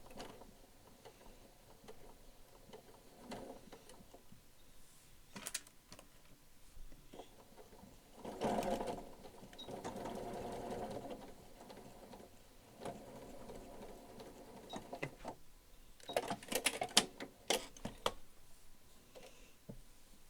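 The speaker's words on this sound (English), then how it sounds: "we're stay stitching the pleat into place so it won't fall apart while we're making this" Sewing machine stay stitching a pleat in place on a cloak, running in several bursts of rapid mechanical stitching separated by pauses, close and fairly quiet, with no talking.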